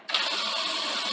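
A Sony SL-F30 Betamax VCR mechanism struggling with a tape, a steady whirring motor drone starting abruptly and holding on, close and fairly loud.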